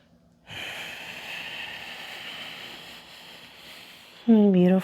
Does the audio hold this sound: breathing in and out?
yes